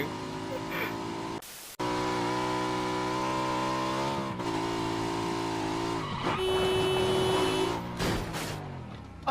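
A car driven in PUBG roars with a loud, steady engine drone that rises and falls in pitch as it revs, with a short cut near the start and skidding tire noise toward the end.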